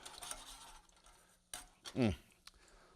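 Coconut shrimp dropped into a hot pan of oil for frying give brief bursts of sizzling and clattering, with a short louder crackle near the end and a voice in the background.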